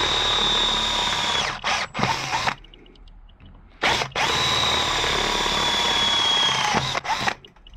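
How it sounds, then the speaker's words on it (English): A power drill with a 5mm bit bores into a Triumph T140 motorcycle handlebar, whining loudly in two long bursts with brief stops and a quiet gap between them, ending in short blips. "So 5mm drill to step out."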